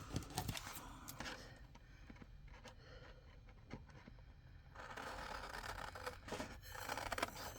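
Scissors cut out a scored piece along its line, making faint, close snips and soft scraping strokes in irregular bursts over quiet background noise.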